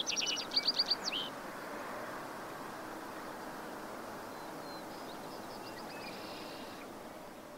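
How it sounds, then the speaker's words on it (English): Breeding birds by the Huatulco River in Oaxaca: a short, loud burst of rapid trilled song near the start, then a fainter, more distant trill later, over steady river noise. "an upwelling of music orchestrated primarily by the breeding birds"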